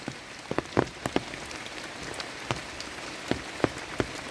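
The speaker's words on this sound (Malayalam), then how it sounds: "നല്ലൊരു മഴ പെയ്തുകൊണ്ടിരിക്കുകയാണ്" Rain falls steadily on a misty hillside plot in Kerala, a dense even patter of drops with scattered louder nearby splats and taps on surfaces, no voices.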